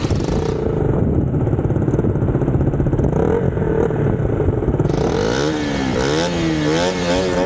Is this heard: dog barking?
no